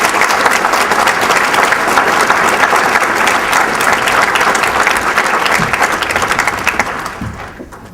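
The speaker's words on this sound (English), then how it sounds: "Would you please welcome Paul with a warm round of applause?" An audience claps in a warm round of applause welcoming Paul Gibson, the Ugandan Director of Operations, onstage at an event. The clapping is dense and sustained throughout, then thins out and fades near the end.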